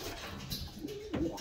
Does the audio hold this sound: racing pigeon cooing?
yes